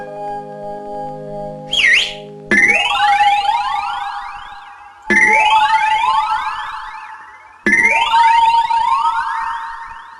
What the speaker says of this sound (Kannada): ನನಗ್ ಗೊತ್ತರೋ, ಕೇಳಿಸ್ತಾ ಇದೆ ಸೈರನ್